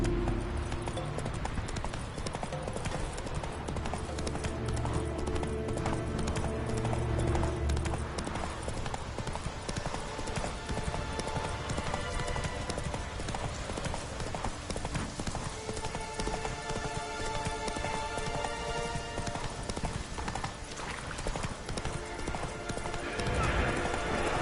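Roach the horse trotting in The Witcher 3, steady clip-clop hoofbeats running continuously amid dense in-game ambience and music, with a brief whinny.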